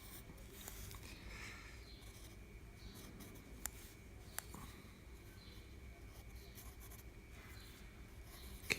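Pencil strokes scratch softly and steadily across paper while a Taskmaster character is sketched, a faint continuous scraping with a few sharper taps.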